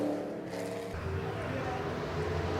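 NASCAR race car engines roar continuously from the track, a loud sustained motor drone with some voices talking over it.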